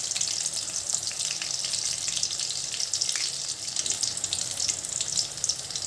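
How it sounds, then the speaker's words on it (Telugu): Peanuts roast in a pan with a steady, fairly loud crackling hiss that runs unbroken throughout, a brief scrape heard partway through. "ఈ విధంగా కలర్ మారేంత వరకు వేయించుకుందాం"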